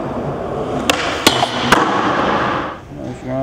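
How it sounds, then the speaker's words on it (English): Skateboard nose grind down a seven stair rail: a few sharp metallic clacks and knocks from the board over a steady loud rumble, with a voice at the very end. "Nose grind down the 7 stair rail."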